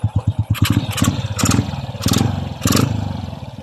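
A Honda Wave 100 motorcycle engine sputters and fires in quick, uneven bursts up close, with loud pops and a rough clattering idle.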